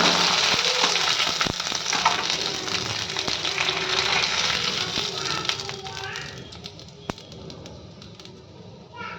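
Tomato sago vadiyalu fry in hot oil with a steady bubbling sizzle that gradually quietens, punctuated by a few clicks, with faint voices and birds in the background.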